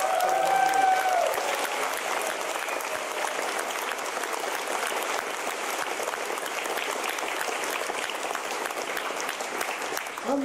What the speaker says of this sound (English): I think our registration team deserves a round of applause